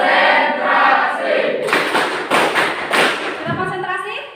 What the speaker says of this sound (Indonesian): Coba sekali lagi, tepuk konsentrasi.